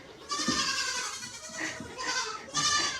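A goat at a feed bin bleats repeatedly, loud and near, with three wavering bleats in quick succession and no talking.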